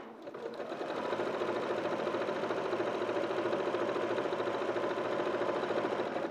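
A domestic sewing machine runs steadily and continuously, stitching down the placket of a garment bodice, with a fast even mechanical whir at close range and no pauses.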